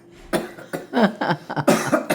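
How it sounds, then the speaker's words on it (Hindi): A woman coughs in a rapid series of short, close, harsh bursts, about half a dozen in quick succession, with a little throat clearing mixed in. "खांसी लग गई।"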